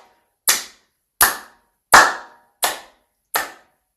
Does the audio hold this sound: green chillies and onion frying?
no